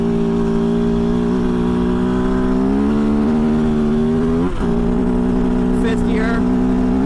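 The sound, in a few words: 2023 Kove FSE 450R rally motorcycle riding through sand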